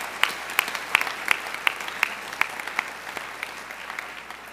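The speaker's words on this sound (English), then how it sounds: "let's give one more round of applause for 3 wonderful projects" Applause for three school projects at an awards event, a small audience clapping with distinct, sharp claps in a loose rhythm that gradually taper off.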